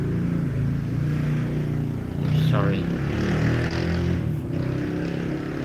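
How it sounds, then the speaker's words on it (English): Continuous rumbling engine noise from noisy food-delivery motorcycles passing outside, swelling slightly midway, with a brief spoken word over it. "Shopee food delivery has some really noisy motorcycles"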